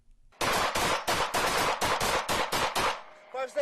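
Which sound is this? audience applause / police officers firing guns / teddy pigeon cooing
police officers firing guns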